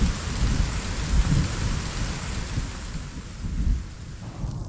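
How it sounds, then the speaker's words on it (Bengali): Heavy rain pours steadily while deep rumbles of thunder roll through, swelling and fading, with no voices. "উফ, কি বৃষ্টিটাই না হলো।"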